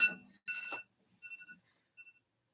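A phone chimes with short alert tones, a burst of notes near the start and a couple of fainter repeated beeps trailing after, close by in a quiet room with no talk.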